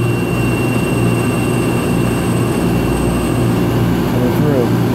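A deep hole drilling machine bores into titanium with a loud, unbroken mechanical roar and a steady humming drone that holds at one level throughout.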